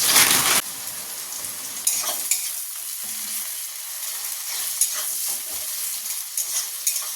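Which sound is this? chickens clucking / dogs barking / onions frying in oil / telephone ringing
onions frying in oil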